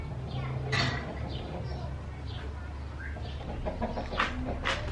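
Roosters and chickens on a family farm make faint, scattered clucks and crowing calls over a low background hum, with people talking nearby.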